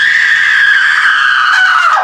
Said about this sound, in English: I'm gonna start screaming.